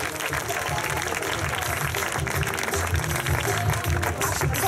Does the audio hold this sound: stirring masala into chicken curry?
no